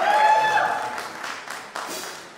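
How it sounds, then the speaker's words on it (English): A concert audience at a summer youth jazz workshop combo night applauds, with a burst of clapping that fades over a couple of seconds. "Give him one more round of applause"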